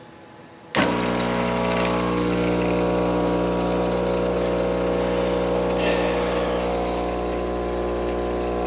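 A small air pump running as the bubbler for a coolant system on a 3018 CNC machine; it switches on abruptly and then hums and buzzes loudly and steadily, close by, with no voices.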